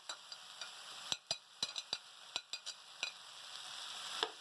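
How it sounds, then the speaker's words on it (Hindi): Chicken and vegetables for chilli chicken are stirred in a hot pan: a string of sharp scrapes and clacks from the utensil over a faint, steady sizzle, heard close and with no talking. "अब इसके अंदर हम शामिल कर देंगे हमारे चिकन को, और हमारी जो वेजिटेबल है इसको"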